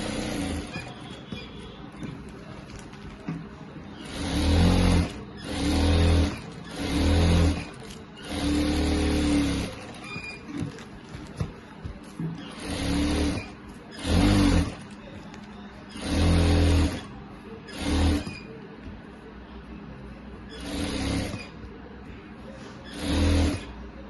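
A sewing machine stitches the sides of a kurti for a Rajputi poshak in short repeated runs of whirring motor noise, about a dozen bursts separated by brief pauses, close and fairly loud.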